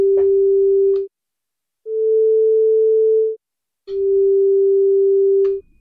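FM synth tone from a Liven XFM, played three times as sustained notes, each with a soft, shallow attack, a steady hold and a gentle release, separated by short silences, with no talking.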